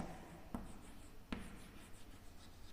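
Marker or chalk writing on a board during a logarithm lesson: soft scratchy strokes running continuously, with two sharp taps as the tip meets the board, close and fairly quiet, with no talking.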